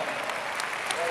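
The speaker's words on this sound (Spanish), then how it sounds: "Fuerte el aplauso, maricones." An audience applauds a comedy troupe at a San Lorenzo football club event, a dense continuous patter of many hands, fairly loud and unbroken, with voices faintly mixed in.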